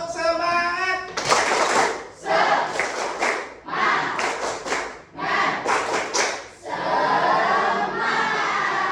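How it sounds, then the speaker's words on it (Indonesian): A class of middle-school students performs a rhythmic cheer clap, loud bursts of group clapping and shouting in repeated patterns, with children's voices calling out between the claps. "Kita kasih tepuk semangat yang paling semangat."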